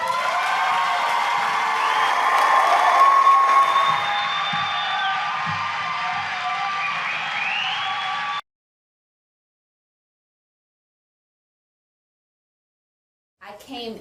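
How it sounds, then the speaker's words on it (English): An audience claps and cheers loudly, with whoops and shouts rising over steady applause for about eight seconds before it cuts to silence; faint talk returns at the very end. "Excited clap of the hands"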